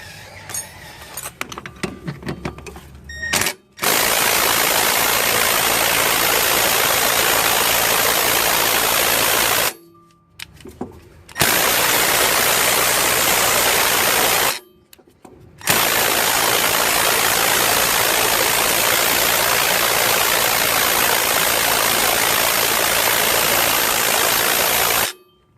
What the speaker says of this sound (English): Well, the rattle gun doesn't want to do it.